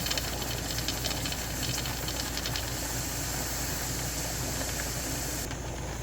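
A pressure canner full of homemade chicken stock vents steam in a loud, steady, unbroken hiss that carries on for the whole stretch, close up and with no voices over it.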